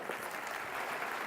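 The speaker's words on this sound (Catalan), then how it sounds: "Un bon aplaudiment" An audience applauds at a talk on women in STEM careers, a dense, steady wash of many hands clapping together, moderately distant and sustained throughout.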